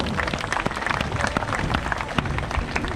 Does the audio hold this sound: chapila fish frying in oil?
no